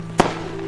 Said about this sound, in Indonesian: Kembang api meledak di langit Hartopia.